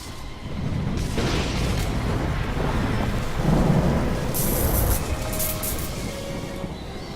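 A long, heavy roll of thunder after a lightning strike in a film scene rumbles loudly and continuously, swelling midway, with a hiss like rain throughout.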